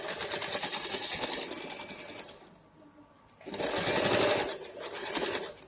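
Close-up, a sewing machine stitches the side seam of a pair of pants in rapid bursts, pausing briefly in the middle before resuming at full speed.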